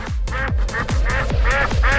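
Ducks quack loudly and close in a rapid series of about eight nasal, honking calls over roughly two seconds, with no talk.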